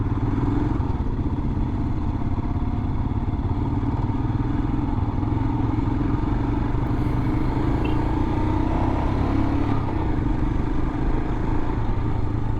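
A 2021 Royal Enfield Himalayan being ridden on a street, its single-cylinder engine thumping steadily and loudly with wind rush over the whole ride, with no speech.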